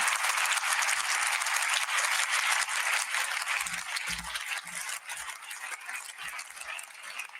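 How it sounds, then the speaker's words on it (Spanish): Audience applause at a live talk: a steady, dense wash of clapping from a large crowd that carries on without a break, with only a slight thinning toward the end and no voices over it. "Aplausos, ¿no?"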